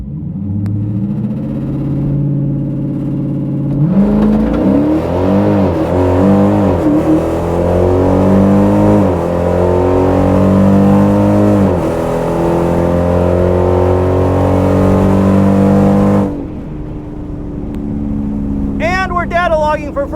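A Hemi-powered drag race car makes a run at Detroit's Darana Dragway, its engine roaring loud and close as it revs up through rising pitch sweeps for about twelve seconds, then cuts off abruptly, with faint chirps afterward.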